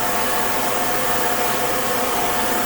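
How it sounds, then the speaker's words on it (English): A hair dryer set on low blows in a steady, continuous whoosh, close and unbroken throughout. "put that hair dryer on a low"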